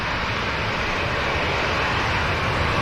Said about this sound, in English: That was an impressive spool up from an awesome airframe, the 330.